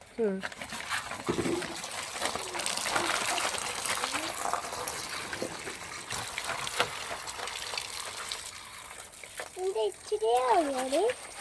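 Water gushes and splashes steadily from a hose while people talk over it, a voice rising near the end.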